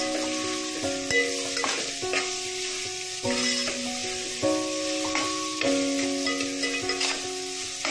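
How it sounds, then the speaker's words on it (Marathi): Tomatoes sauté in a pan for a mutton curry, a steady sizzle under frequent close scraping and clinking of a spoon against metal as they are stirred. No one speaks. "आता आपण ह्यात टोमॅटो टाकूया, परतून घेऊया।"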